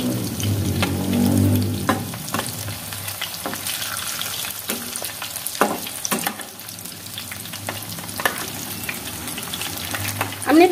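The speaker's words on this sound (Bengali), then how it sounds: "আমি একটু কমিয়ে কমিয়ে ভাজছি" Chicken pakoras frying in hot oil on lowered heat, a continuous bubbling sizzle with scattered crackles and spatters, plus occasional clicks of a utensil turning the pieces; no talk over it.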